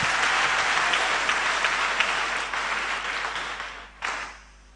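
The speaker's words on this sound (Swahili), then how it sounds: "pigieni mhubiri makofi mengi" A congregation applauds a preacher at a church gathering, a thick burst of clapping that holds steady, dips briefly, then surges again before tapering off.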